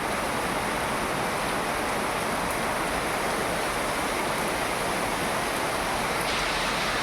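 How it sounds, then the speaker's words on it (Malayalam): Dense, unbroken rain roars evenly throughout, a constant heavy wash of noise with no pauses and no voices. "ഒരു രക്ഷയില്ലാത്ത മഴ"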